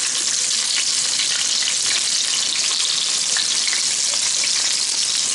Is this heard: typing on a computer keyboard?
no